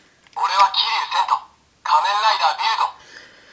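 Electronic phone-mode call sounds from a Kamen Rider Build Bike Henkei DX toy phone, two bursts of bright, voiced-sounding toy audio separated by a short pause, close and fairly loud.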